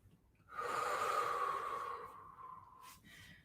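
One long, slow breath during a stretching exercise, a soft airy exhale rising after a short pause, holding steadily, then tapering off with a couple of small breathy puffs at close range.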